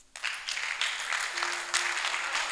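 Applause from a church congregation, a dense crackle of clapping that runs steadily through the whole stretch at moderate loudness, with a faint sustained tone partway through.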